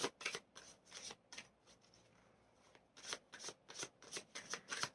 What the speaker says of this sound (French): je vais prendre une troisième carte